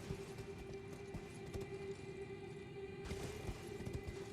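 Horse hooves galloping in Elden Ring, a quick steady clip-clop rhythm under a low droning game soundtrack, moderately close and even throughout.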